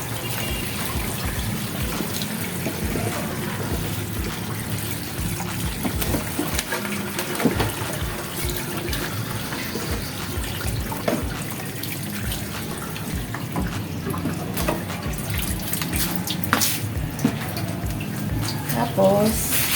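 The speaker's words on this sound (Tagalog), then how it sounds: "Lagyan natin dito sa yung drainer para magasan natin ng maayos." Steady running tap water splashes over food in a drainer at a kitchen sink, a continuous close hiss and trickle throughout while someone talks over it.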